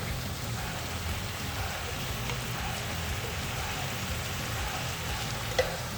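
Garlic frying in a pan for a venison hunter's pie makes a steady, close crackling sizzle like light rain, even throughout, with one brief sharp tap near the end.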